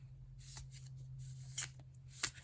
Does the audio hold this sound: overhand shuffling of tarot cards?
yes